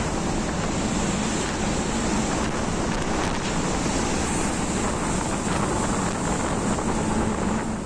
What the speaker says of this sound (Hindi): समंदर की ऐसी खौफनाक लहरें आपने बस फिल्मों में देखी होंगी।